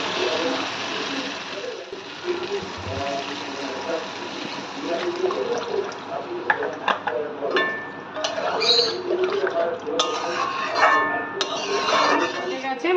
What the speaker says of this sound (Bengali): এবার এর মধ্যে আমরা পরিমাণ মতন জল অ্যাড করব।